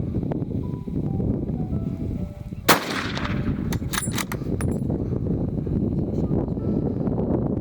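A single rifle shot cracks out once during a buffalo hunt in South Africa, sharp and loud against steady outdoor wind noise, followed by faint rustling.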